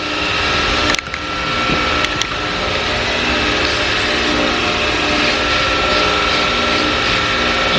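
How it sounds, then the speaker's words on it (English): A spray gun coats a tiny model chassis with paint, giving a loud, steady hiss that runs nearly unbroken from start to finish, with a couple of brief clicks near the beginning. "I'm gonna spray this one real quick to show you guys what I kind of do to do it."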